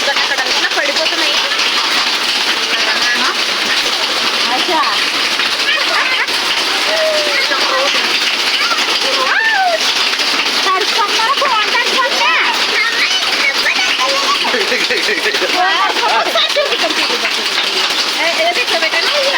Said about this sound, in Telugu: చూడండి వడగలలో వడగల వర్షం